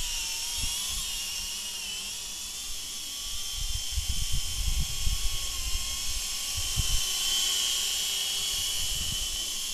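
An XK X300 quadcopter drone, suspected of being defective, hovers after an automatic takeoff. Its motors give a steady high-pitched whine and hiss, with soft low thumps underneath.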